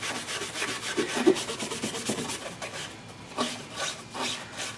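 An abrasive pad rasps back and forth across a car firewall to scuff it before painting, steady close rubbing strokes at a moderate level with no talking.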